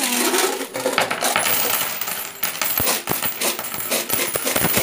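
Coins from an opened piggy bank pour and clatter out in a dense, loud metallic rush, then scatter into sharper individual clinks and rattles.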